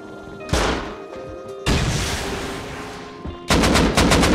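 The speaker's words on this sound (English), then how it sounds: "I'm gonna shoot that Scrappy." Gunfire in the Rust survival video game as a player shoots at a Scrappy helicopter from a rooftop, with loud repeated shot bursts around 0.5 s, a sustained volley from about 1.7 s, and a rapid string of close shots near the end.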